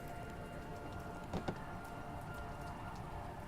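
Rain falls steadily in the Mr. Prepper video game, a soft continuous hiss of drops with a couple of brief louder splashes, quiet and even throughout.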